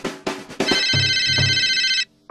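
A cell phone rings loudly inside a cinema, a bright sustained electronic trill lasting over a second after a few short opening bursts, with low thumps underneath and a brief final burst after a pause.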